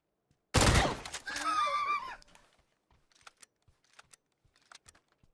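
Console PUBG gunfire: a sharp, loud burst of shots, then a trailing whoosh and ringing tail, followed by faint scattered clicks and taps.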